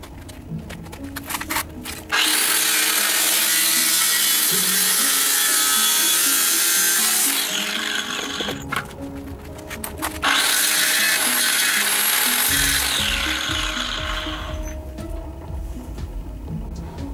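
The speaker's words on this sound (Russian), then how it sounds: "сейчас отрежу болгаркой." Angle grinder cutting through a steel angle blank in a workshop, two long, loud, steady abrasive cutting passes with a brief pause between them, then quieter rough handling afterward.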